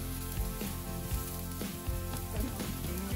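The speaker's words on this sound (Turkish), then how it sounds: "Devamında soğanları soteliyorum," Onions and garlic sautéing in a hot pan give off a continuous, fairly loud sizzle, steady throughout with a faint background hum and no talking.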